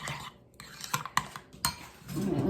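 A utensil stirs a mixture in a bowl, scraping and clinking against the sides in several quick strokes, close and alone with no talking.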